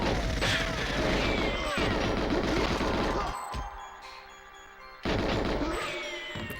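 Gunfire and mechanical clatter in a video game, a dense run of shots and metallic ratcheting that drops out briefly, then resumes abruptly, moderately loud with no voices.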